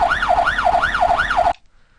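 A custom wailing siren being edited for the game GTA IV, rising and falling in a steady rapid cycle four times, loud and clean, then cutting off abruptly into silence.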